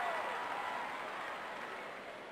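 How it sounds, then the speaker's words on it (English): Arena crowd in the PS1 wrestling game WWF War Zone, Challenge Mode, roaring and cheering as a steady, dense wash of noise that eases slightly toward the end. "Listen to this crowd."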